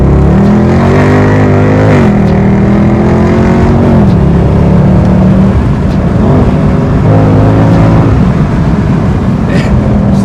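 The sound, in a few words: Mercedes C63 AMG W204 engine revving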